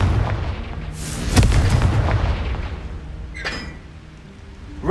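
A Confringo fire spell from Hogwarts Legacy explodes with a deep booming blast, followed by rumbling low debris and a brief bright crackle near the end, with no talk.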